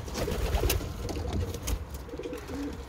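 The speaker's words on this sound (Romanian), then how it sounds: "Aici avem un puișor care cam plânge" A pigeon chick in a pigeon loft gives thin, repeated crying calls among soft cooing from other birds, close by over a constant rumbling background.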